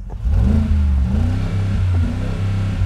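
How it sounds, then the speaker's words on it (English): A Mercedes G63 AMG with a quad exhaust gives one deep rising rev close by, then settles into a loud, throbbing idle rumble. "You get 4 exhaust, 4 quad exhaust। Let me make you listen to it"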